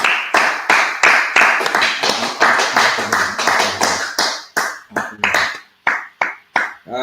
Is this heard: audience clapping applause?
yes